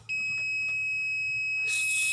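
Piercing continuous electronic beep from an alarm being tested during installation of an AIS unit for boats, a steady loud high tone held throughout with a hiss of noise rising near the end.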